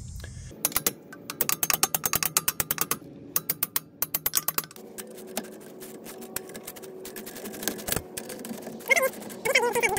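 A hand ratchet tightens U-bolt nuts on a fifth-wheel camper trailer axle during a lift kit axle flip, giving bursts of rapid, close clicking that pause partway through and then give way to quieter mechanical handling noise.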